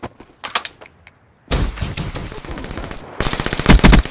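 Bursts of automatic gunfire in the multiplayer shooter Black Ops 3 during a 4v4 scrim match, with scattered shots early on, then a sustained close rapid volley, a short pause and a louder final burst.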